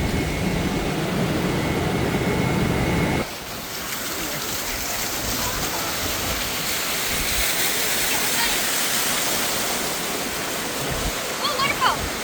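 Waterfall pouring onto a Dollywood rapids raft ride, a broad loud rushing roar that suddenly shifts to heavier close splashing as the raft passes under, with riders' voices over it.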